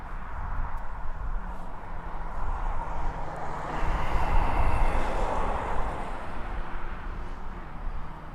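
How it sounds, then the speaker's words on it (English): A small Cessna aircraft engine at East Midlands Airport, a steady distant drone that swells to a peak midway, then recedes under light wind noise, no talking. "So a little Cessna"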